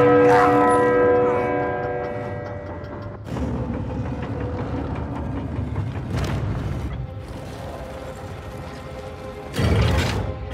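A large bell in the video game Uncharted 4 rings loud and close at the start, its long harmonic tone decaying over several seconds. Rumbling game ambience and mechanical clatter continue after it, with another loud hit near the end.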